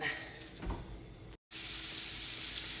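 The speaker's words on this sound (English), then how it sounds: "So as I'm cooking up this sausage and pounding it with my favorite" Jimmy Dean breakfast sausage sizzling in a pan, a close steady hiss that swells sharply after a brief cut, with clattering utensil sounds earlier.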